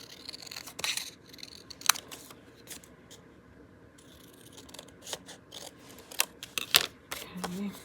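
Scissors snip through paper tags in quick irregular bursts, sharp close crisp cuts and rustling scattered through a quiet stretch, with brief pauses between clusters of snips.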